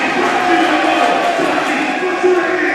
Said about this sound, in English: Team Chester getting the crowd into it here.